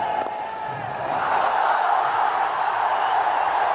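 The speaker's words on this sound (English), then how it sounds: "This crowd goes wild." A large stadium crowd at an India versus Pakistan one-day cricket match in 2007 roars and cheers in a broad, sustained wash of noise that swells a little louder after the first second and holds steady.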